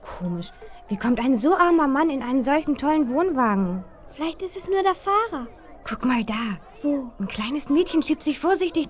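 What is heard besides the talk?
No everyday noises stand out.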